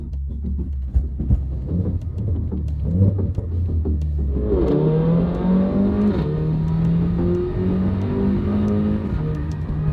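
Mercedes GLA45 AMG on a drive, engine rumbling low at first and then revving up into a steady, louder drone as the car accelerates and holds speed.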